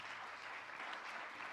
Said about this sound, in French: Luc Jacquet, vous pouvez l'applaudir.